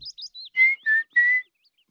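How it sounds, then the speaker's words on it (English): A person whistles a short tune in a Peppa Pig cartoon: a few quick high chirpy notes, then three longer sustained whistled tones, clear and close, with no talking. "Whistling."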